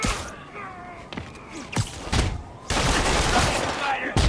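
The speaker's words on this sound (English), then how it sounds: "Officers are taking sniper fire." Sniper gunfire in the video game Marvel's Spider-Man: sharp shots and bursts crack out amid game effects, with a dense, loud volley filling the second half.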